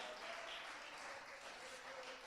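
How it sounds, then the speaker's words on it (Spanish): A church congregation applauding, a dense even wash of clapping heard from a distance at low level, sustained throughout with no distinct individual claps. "¿Cuánto le aplauden al Rey de Gloria?"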